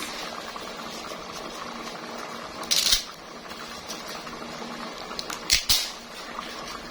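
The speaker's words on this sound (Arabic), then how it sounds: "المكرونه الاسباجيتي، اقطعها كده" Dry spaghetti is snapped by hand over a pot for one-pot koshari: one crisp crunching break, then two quick sharp snaps a few seconds later, over a quiet kitchen background.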